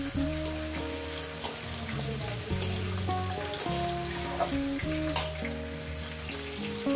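A fish head cooked with Malabar spinach and pumpkin over a low gas flame sizzles steadily and close by, with music playing underneath the constant frying hiss.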